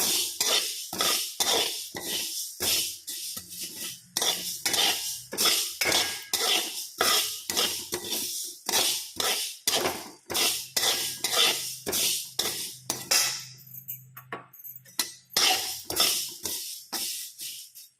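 Fenugreek seeds dry-roasting in a metal pan, a spoon scraping and clinking against it in a steady rhythm of repeated strokes, close and fairly loud, with no talking.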